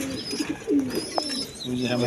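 Pigeons at a breeder's loft, high-flying Giribaz and fancy breeds, coo in soft low throaty calls close by, with a person talking over them.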